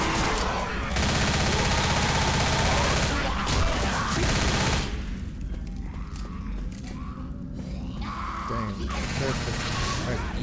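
Gunfire in the Left 4 Dead zombie video game erupts in dense, rapid automatic bursts with mechanical clatter, loud and close, then thins to scattered shots under game noise while voices talk over it.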